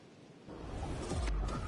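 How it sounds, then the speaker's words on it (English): Rain and thunder in the Madden 24 American football video game: a steady broadband rain hiss that thickens and is joined by a low, rolling thunder rumble swelling toward the end. "The rain set to continue as we are underway in the second half."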